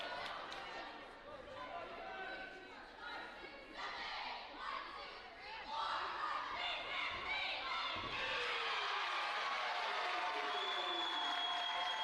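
A home crowd cheers at a college sports event, Frostburg State versus Glenville State, with loud sustained shouts, whoops and applause that swell louder in the second half, while voices call out within the noise.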